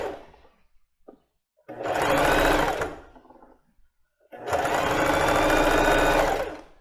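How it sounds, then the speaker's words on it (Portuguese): Singer domestic sewing machine running a straight stitch at setting 4, sewing in two bursts of steady rapid needle chatter, each about one to two seconds long, with quiet gaps between them. "costurar no ponto 4 dessa máquina Singer."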